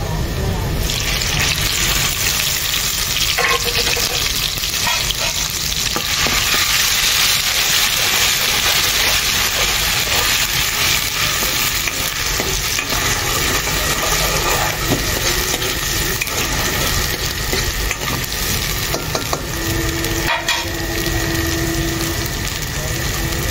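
Onion tossed into hot oil with garlic on a stove, frying with a loud, continuous hiss that fills the whole stretch, with a few faint clatters inside the noise.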